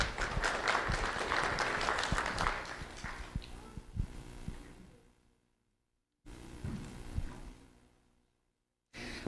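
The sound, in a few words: round of applause for honored students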